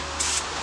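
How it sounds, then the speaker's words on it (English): A spray can of air filter oil for a motorcycle filter gives one short test burst, a brief soft hiss over quiet background, with no one talking. "I'm going to do it over the trash, but I'm also going to test spray this, because I don't know how this sprays."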